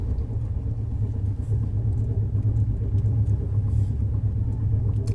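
Steady low rumble inside a second AC coach of the 20504 Dibrugarh Rajdhani Express as it runs along, a continuous loud drone with no voices.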